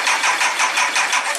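The 1999 Triumph Trophy 1200 motorcycle engine cranks on choke with a rapid, even, pulsing churn that stays loud and close throughout the short burst.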